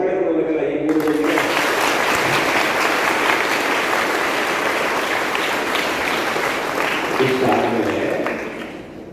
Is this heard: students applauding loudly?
yes